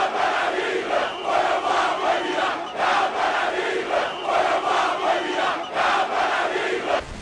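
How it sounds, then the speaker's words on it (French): An excited crowd greets a party candidate at a final-day campaign rally in Yaoundé, sustaining loud, dense cheering and shouting that swells in rhythmic surges throughout, with no single voice standing out. "le candidat du parti Univers est accueilli par une foule surexcitée"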